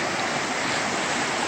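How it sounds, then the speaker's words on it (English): The South Toe River in Pisgah National Forest, North Carolina, running high, rushes over rocks and pebble beaches in a steady, dense, close roar of broadband water noise with no voices. "the water level is much higher than normal, so it's washing over a lot of those exposed rock pebble beaches"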